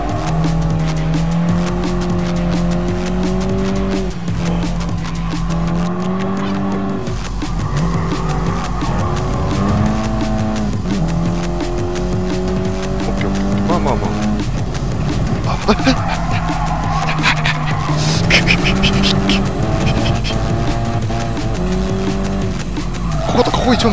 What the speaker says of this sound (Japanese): ソフトでも結構タイヤ滑ってるぞ、これ。